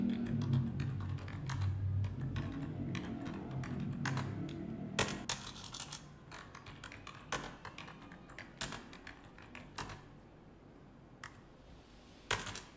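Keys clatter on a computer keyboard in irregular bursts of quick taps, loud at first over a low hum, then sparser and quieter.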